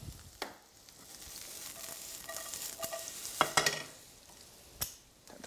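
Eggplant slices frying in a hot pan for eggplant parm pizza, a steady soft sizzle with a few sharp clatters of a utensil against the pan partway through.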